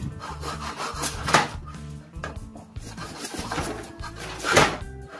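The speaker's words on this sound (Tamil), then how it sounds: "கரும்ப நம்ம ரொம்ப சூப்பரா ஒரு நிமிஷத்துல தோலை சீவிட்டோம்" A handheld peeler scrapes the skin off a stalk of sugarcane in repeated close, rough strokes, a raspy woody shaving sound with a couple of louder scrapes, and no voices.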